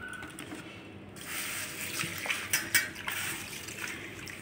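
Sago pearls are washed in clean water on a plate, soft sloshing and trickling with a few small splashes and light clinks building up after a quiet start, close by and moderately quiet, with no talking.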